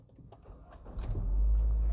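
The engine of a DFSK Glory 580 Pro seven-seater crossover starts up, its low rumble swelling after a faint click and settling into a steady idle that fills the second half.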